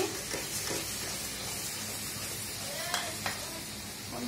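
Halim spice paste mixed with water hits hot oil in a pan and sets off a loud, continuous sizzle and crackle, with a couple of sharper pops near the end.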